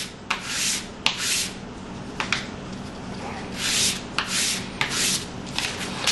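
Fine 600-grit sandpaper rubbed over a stainless steel Sig trigger, giving close, bright scratchy strokes in irregular bursts with short pauses between them.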